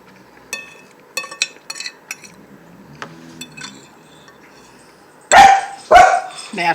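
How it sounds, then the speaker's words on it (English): Dogs bark at a house on Christmas Eve: faint clinks and scattered soft noises first, then two sharp, very loud barks close by toward the end. "Naturally, they're going to bark."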